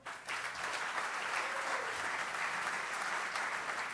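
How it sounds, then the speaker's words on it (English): A live audience applauds at a televised political debate between Sanford and Colbert-Busch, with steady, dense clapping that continues throughout, rising quickly at the start and holding at a moderate, even level. "You can clap now."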